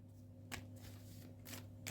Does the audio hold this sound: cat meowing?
no